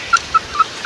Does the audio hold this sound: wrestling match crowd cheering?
no